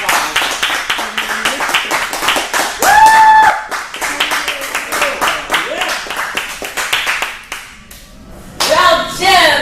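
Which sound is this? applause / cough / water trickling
applause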